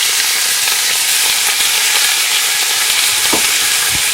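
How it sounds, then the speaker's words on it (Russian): Steady, loud sizzling and crackling of potatoes frying in a pan, a continuous hiss with a couple of soft clanks near the end. "Вот шкварчит"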